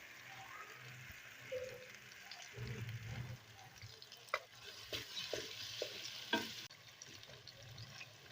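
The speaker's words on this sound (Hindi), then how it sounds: "अदरक लहसुन फ्राई के साथ साथ ही हमने प्याज भी शामिल कर देने।" Onions fry with ginger and garlic in a pan for butt-style chicken karahi, sizzling softly while a utensil stirs with scattered clinks and scrapes, all faint and close.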